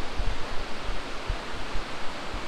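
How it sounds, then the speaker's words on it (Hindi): Dudhsagar waterfall in Goa, a dense constant roar of falling water filling the whole stretch, with low rumbling gusts and no one talking. "तो ये है मेरे पीछे जस्ट"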